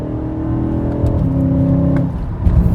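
A BMW E90 M3's naturally aspirated engine hums loud and close, its pitch rising and shifting between steady revs, then building again near the end, with no voices.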